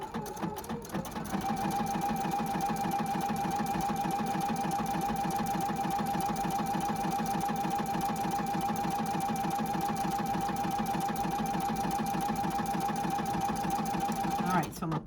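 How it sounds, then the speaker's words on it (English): Husqvarna Viking sewing machine running a four-way stitch sideways with an omni-motion S foot, a steady close whirring hum of rapid needle strokes that runs without pause for about thirteen seconds before stopping. "And now I'm going to stitch to the right."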